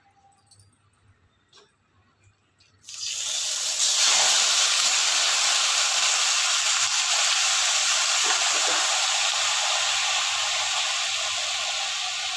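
Chicken dropped into a hot iron kadai bursts into a loud, steady sizzle that starts suddenly after a few quiet seconds and hisses on close-up until the end.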